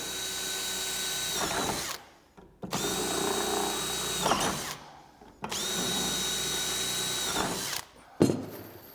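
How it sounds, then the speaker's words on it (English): A power drill whines in three long bursts, each a few seconds, drilling rivet holes in a garden room base, separated by brief pauses, close and loud. "the rest of them 5 holes now need drilling."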